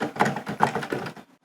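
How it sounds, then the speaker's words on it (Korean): A series of soft, muffled plastic taps and thumps from MIDI keyboard keys being pressed in quick succession, close by, fading out at the end. "건반 누르는 소리 들리시나요?"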